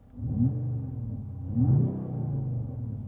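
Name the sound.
Mercedes-AMG CLE 53 Coupe engine revving in Sport Plus mode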